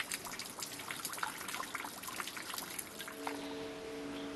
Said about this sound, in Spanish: El sonido del agua que emana de esta fuente ayuda a los monjes a meditar